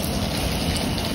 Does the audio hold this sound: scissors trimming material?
no